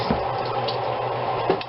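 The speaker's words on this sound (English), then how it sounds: "wash my hands real quick" Water from a kitchen tap runs steadily while hands are washed under it, with a constant splashing hiss and a few soft splashes as the hands move.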